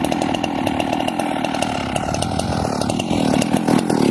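A Sachs Dolmar chainsaw cuts through apple branches, its engine buzzing loud and close at high revs with steady cutting vibration throughout, no voices.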